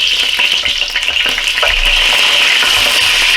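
A vegan burger fries in a little too much oil in a countertop cooking appliance set to medium high, giving a steady, close, crackling sizzle with light pops and no talking.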